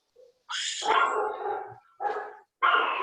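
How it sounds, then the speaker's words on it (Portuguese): A dog barks and growls angrily close by in a home during a lesson, with several loud harsh barks in quick bursts and a brief whimper before them. "O cachorro ficou bravo."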